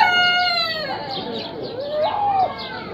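Pheasants in a pet park call out with loud, harsh, rising and falling crowing cries, close by, with faint background voices.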